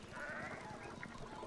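A flock of sheep bleating in the Pentiment video game, a faint wavering bleat drawn out over a low muffled background, with no voices.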